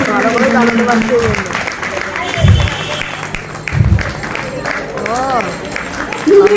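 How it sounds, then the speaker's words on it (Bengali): Applause from a crowd at a Basanta Utsav stage event rises and fades in bursts beneath an announcer's amplified voice during a lamp lighting, with low thumps and background chatter. "হাততালি জোর কমে যাচ্ছে"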